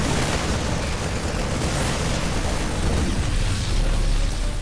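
Cannon fire and explosions from the video game StarCraft II make a dense, continuous roar of booming blasts, loud and sustained with no pauses or talk.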